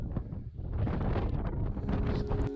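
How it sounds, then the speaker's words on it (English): Wind gusting across a Snowdonia hillside, buffeting the microphone with a steady, loud rumbling roar that rises and falls slightly, with faint rustling and no voices. "So the wind was picking up"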